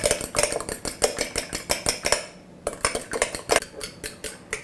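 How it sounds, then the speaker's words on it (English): A fork or whisk clatters rapidly against a bowl, beating an egg mixture with chopped green chili, salt and pepper in a steady fast rhythm, briefly pausing midway before resuming. "chopped green chili, little bit, and salt and pepper, and again beat this up."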